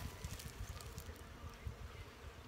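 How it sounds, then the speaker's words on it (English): Bees swarm over a blooming willow tree in early spring, a faint, steady outdoor buzz with a slightly rough, fluttering texture and no voices. "This tree is absolutely covered with bees."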